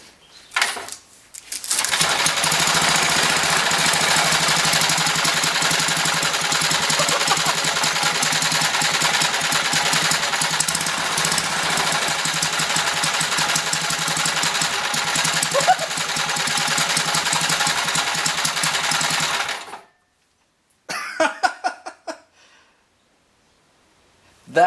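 An old military engine, revived after long disuse, runs loud and steady with a busy mechanical clatter for about eighteen seconds, then cuts out abruptly, followed by a few faint knocks.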